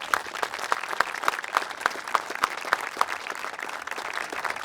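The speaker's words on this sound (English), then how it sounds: "Let's give these folks a round of applause." An audience at an outdoor dedication ceremony applauds steadily, a dense patter of many hands clapping with a few sharper claps standing out, moderately distant.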